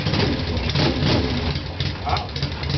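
A Yamaha XS650 motorcycle with the choke on sputters and catches into a steady, loud, uneven idle close by, running throughout while people talk over it.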